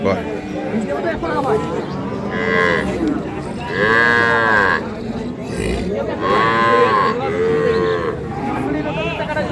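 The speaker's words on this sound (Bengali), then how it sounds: "আপনারা দেখছেন এখানে যে দুধের গাভী বাছুরগুলো রয়েছে সেই গরুগুলোকে" Dairy cows and calves, Sahiwal, Sindhi and local breeds, moo loudly and repeatedly at Ambari cattle market in Dinajpur, long drawn-out bellows rising over a busy background of people talking.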